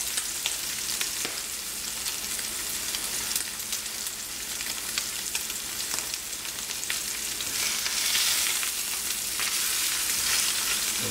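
A sous vide New York strip steak searing in a hot pan on a stovetop, an even, sustained hiss of sizzling fat that swells slightly toward the end, with no one speaking.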